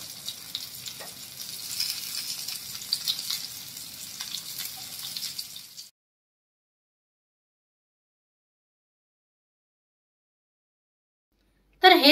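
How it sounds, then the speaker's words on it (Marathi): Stuffed pomfret fish frying on its second side in a pan, a soft steady sizzle and crackle at moderate distance for about six seconds, then silence before a brief sharp noise at the very end. "तर आता हे पापलेट आपण दुसऱ्या बाजूने परतवून घेऊया।"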